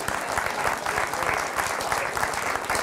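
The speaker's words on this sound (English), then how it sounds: "give him a round of applause for being the." A television studio audience claps steadily, a dense, loud wash of applause sustained for about three seconds with no voices on top.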